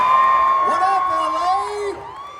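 A convention audience at LA Comic-Con cheers and whoops loudly, a dense crowd roar with shrill yells rising above it, sustained before fading slightly at the end.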